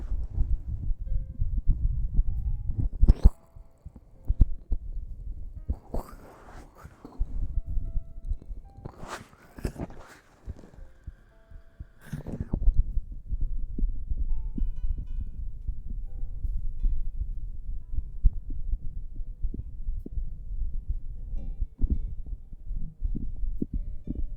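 Low, muffled heartbeat thumps pulse steadily through the whole stretch, close and dull like a microphone pressed to the body, broken midway by a few louder rustling bursts of handling noise; no talking.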